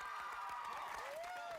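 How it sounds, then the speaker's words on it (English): A TV studio audience applauds and cheers in a steady dense wash of clapping, with a whoop rising over it, and a voice speaking underneath. "Round of applause, ladies and gentlemen."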